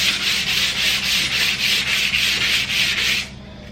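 Sandpaper rasps across a wooden TV unit in quick, regular back-and-forth strokes, close and loud, about eleven rhythmic passes before stopping.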